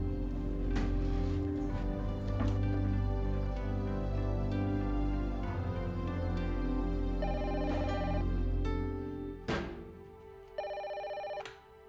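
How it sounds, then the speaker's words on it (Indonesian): A telephone rings in a scene from an Indonesian TV drama, its short bursts of ringing tones sounding over sustained background music, with no voices. "Kar, tumben kamu telepon ke sini"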